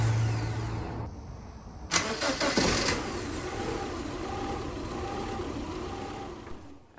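A 2009 Subaru Impreza engine cranks with a harsh burst of starter noise, then settles into a steady, fairly loud idle with a faint periodic ticking over the running engine.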